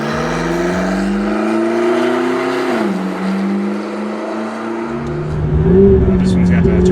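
A turbo-upgraded McLaren 12C with 900 wheel horsepower driving, its engine droning loudly from inside the cabin with steady pitch shifts as it pulls through gears, while people talk over it.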